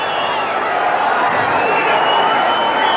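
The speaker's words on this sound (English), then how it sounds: "this American crowd really are now getting very excited about this fight" Excited arena crowd at a boxing match between Cornelius Boza Edwards and Rafael Limon, a dense steady roar of cheering filling the whole stretch at close, loud level.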